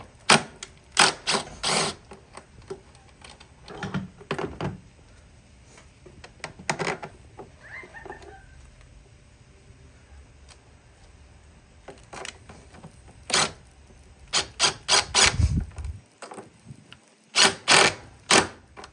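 A ratchet wrench works a bolt loose during an E-85 install, sharp rapid clicking bursts in quick rhythmic runs separated by quiet pauses and small metallic knocks, close and with no talking.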